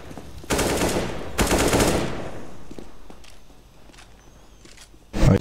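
Automatic gunfire in the video game CS:GO, two loud rapid bursts up close, then quieter footsteps and scattered clicks, ending with another sharp close shot.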